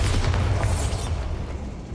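A Bombarda blasting spell explodes in Hogwarts Legacy with a loud, sustained boom and rumbling crash that fades slowly over two seconds.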